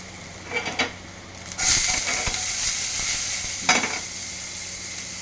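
Garlic and onion hit a hot pan for ratatouille and burst into a loud, close sizzle after a few light knocks, then hiss steadily with one more flare of sizzling near the end.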